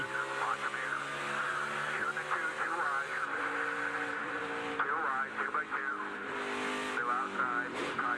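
A NASCAR Sprint Cup race car engine at Indianapolis revs and eases off in waves, loud and steady throughout, with voices talking over it.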